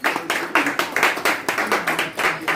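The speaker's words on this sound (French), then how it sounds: "Applaudissons également pour M." Audience applause for Pierre Ndiaye at a literary café gathering, a steady run of clapping with a rhythmic, pulsing swell across the whole stretch, fairly close and loud with no talk over it.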